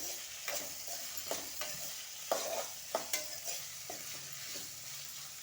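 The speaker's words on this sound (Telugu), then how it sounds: "ఇప్పుడు మనం ముందుగా ఉడకబెట్టుకున్న బీట్రూట్ ముక్కలు, ఒకసారి దీన్ని ఇలా కలుపుకోవాలి" Boiled beetroot pieces stirred in a pan for a fry, with a spoon scraping and tapping at a steady pace over a soft sizzle, close and clear.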